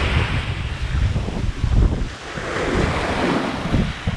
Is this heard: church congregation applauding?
no